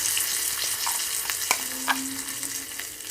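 Elephant foot yam chutney is added to a hot tempering of mustard seeds, dried red chillies, asafoetida and curry leaves, sizzling and crackling steadily close by with faint stirring.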